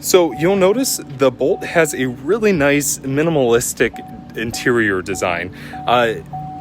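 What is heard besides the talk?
warning chime beeping inside Chevy Bolt EV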